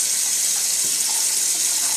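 Water runs steadily from a kitchen tap into a sink, a constant close hiss of flow with no talking over it.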